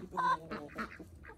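A male domestic duck gives a few short honking quacks, close and fairly faint, in a free-range flock.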